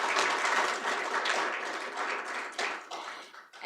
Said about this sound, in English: maybe if we can give a round of applause to these guys real fast